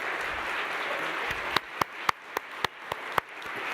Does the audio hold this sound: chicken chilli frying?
no